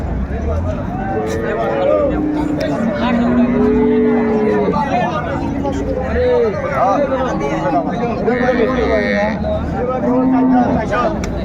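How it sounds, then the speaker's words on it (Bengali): Cows with calves moo repeatedly at a busy rural cattle market, several long, low calls rising above dense crowd chatter and bargaining voices that run throughout. "গাভী বাছুর"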